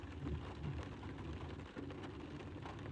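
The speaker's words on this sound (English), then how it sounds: "This is a lot of rain." Heavy rain falls at night on a car parked by a flooded bridge with no railings, heard from inside the vehicle as a dense, steady roar of drumming drops with low rumbling underneath and no talking.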